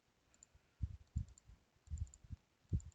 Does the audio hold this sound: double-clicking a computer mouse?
yes